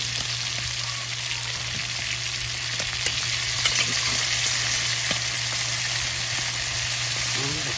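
Garlic frying in a pan gives a loud, dense, unbroken sizzle up close, with a few faint clinks of a utensil now and then.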